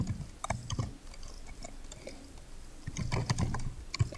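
Quiet clicking of computer keyboard keys comes in short bursts of typing with a pause in the middle, close and soft, with no voices.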